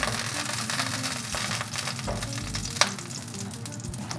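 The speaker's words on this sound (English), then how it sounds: "So make the pan really hot, and then get a nice golden brown sear" Sous-vide cooked meat searing in a very hot pan, a steady close sizzle and crackle of fat with a small clink partway through, no voices.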